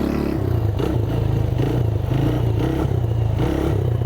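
An electric motocross bike held up on a wheelie, its wheelie bar scraping and clattering against the ground in steady bursts over a constant low electric motor hum, close and loud.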